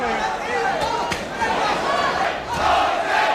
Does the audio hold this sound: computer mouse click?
no